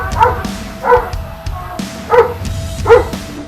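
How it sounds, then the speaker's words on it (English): A big Doberman barks in short, sharp yaps, four of them spaced under a second apart, loud and close over a low background rumble. "they actually had the best kind of safeguard in the world, a big and savage Doberman"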